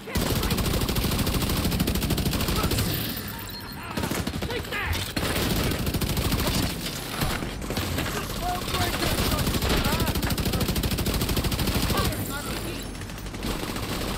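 Carbine 7 rifle fire rattles in The Division 2 video game, with loud, dense automatic bursts and other gunfire running almost nonstop and brief lulls, while a voice talks over the shooting.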